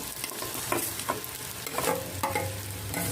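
Mashed potatoes being stirred into onions frying in oil with turmeric, a loud steady sizzle broken by several scraping stirs of the spoon against the pan, close by with no talk.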